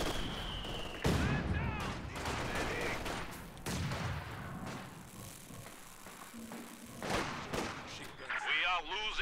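Light machine gun fire in a Company of Heroes match, with bursts of gunfire and distant artillery-like booms spread through the clip, mixed with other battle effects under steady talk from a commentator.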